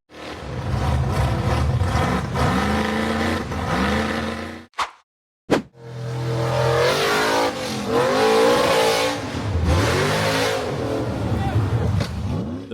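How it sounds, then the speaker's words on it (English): An off-road buggy climbs a steep dirt wall strewn with large rocks, its engine revving hard and loud in surging bursts, cutting out briefly midway before roaring back up with strained rising and falling pitch. "The buggy accelerated hard up a steep dirt wall filled with large rocks"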